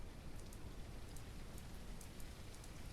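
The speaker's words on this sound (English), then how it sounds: "Oh, it's raining." Rain begins falling in the zombie survival video game SurounDead as a soft, even hiss of drops with faint scattered higher patters. The shower stays quiet and constant throughout, with no voices.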